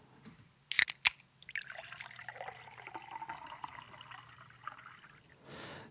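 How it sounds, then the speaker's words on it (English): A long pour of a drink into a big glass, with a sharp crack near the start and then a bubbling, trickling liquid stream that runs on for several seconds before fading out. "this is the pour and the crack"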